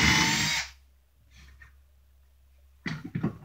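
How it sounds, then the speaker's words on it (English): A power drill pre-drills holes for brass screws in a short, loud burst of whirring that stops after about half a second, followed by quiet handling and a second brief burst of drilling noise near the end. "So we're going to pre-drill the holes."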